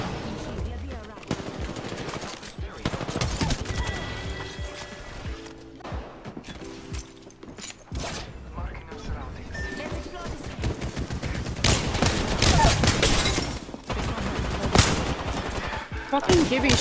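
Rapid automatic gunfire in the Apex Legends video game, fired toward the player in dense, overlapping bursts with brief lulls, mixed with clanking impacts and game effects over roughly seventeen seconds.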